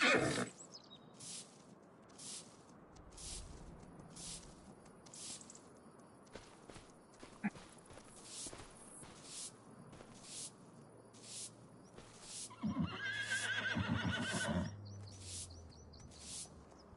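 A horse in a farming video game walks with regular soft hoof steps amid crickets and insect chirps, then gives a clear neigh near the end.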